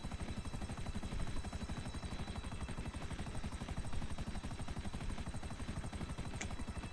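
A helicopter in the video game GTA 5 Online makes a steady, fast-chopping rotor throb with a constant engine whine. It is continuous and fairly close for the whole stretch, with no speech over it.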